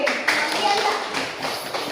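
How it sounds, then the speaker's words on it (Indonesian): Brief burst of classroom clapping for a student group at an elementary school, scattered hands patting quickly and fairly loud, with voices chattering over it. "Kasih tepuk tangan untuk kelompok KSG"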